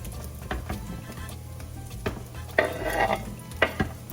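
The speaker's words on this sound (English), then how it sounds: "you're gonna put it on medium heat, just olive oil this time. And you're gonna put the peppers and the onions in there, all of them" Peppers and onions fry in olive oil in a pan over medium heat, a constant close sizzle punctuated by several sharp stirring scrapes and clatters against the pan.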